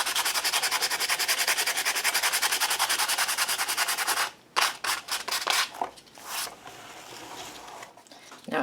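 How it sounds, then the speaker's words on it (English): Sandpaper rubbing across the textured page of an altered book: rapid, even back-and-forth rasping strokes for about four seconds, then slower, irregular scrapes and pauses, close and loud, with no talking. "Grabbing our sandpaper, and I'm going to go in and bring that texture back up."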